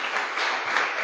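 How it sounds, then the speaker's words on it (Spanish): A church congregation breaks into a brief, dense burst of applause, many hands clapping together in a steady, moderately loud wash. "Démosle fuerte aplauso al Dios Todopoderoso"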